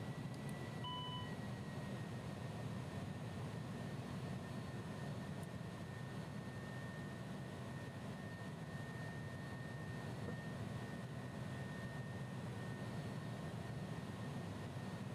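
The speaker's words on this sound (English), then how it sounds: "there's the engine acceleration" Airbus A300 jet engines in the X-Plane 11 flight simulator spool up into a steady, loud broadband roar with a faint whining tone on top, heard continuously without speech.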